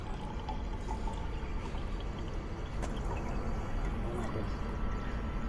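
Water from a park drinking fountain in Dubai pours into a bottle, a soft continuous trickle and splash heard faintly against outdoor background noise.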